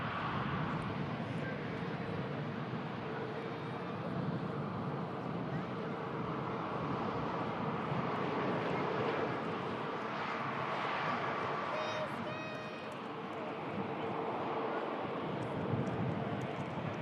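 An airliner landing with a floaty touchdown, heard as a distant, steady jet roar and rumble from a spotting location, with people chatting over it.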